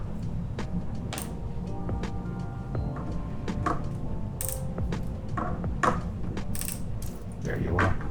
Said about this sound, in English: That's torquing already. You heard that click.